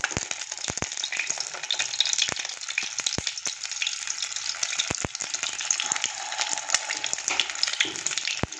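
Tomatoes frying in hot oil in a pan for an egg tomato omelette, a dense continuous crackle peppered with sharp spitting pops, close and steady with no one speaking.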